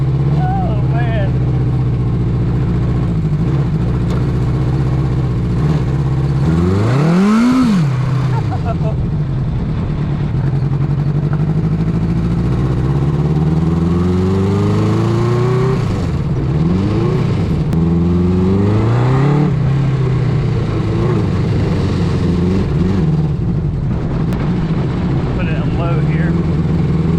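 A custom 1980 Honda CB900 motorcycle engine on a lawnmower trike revs hard up close, its pitch swinging up and down through several loud throttle bursts over a steady idle.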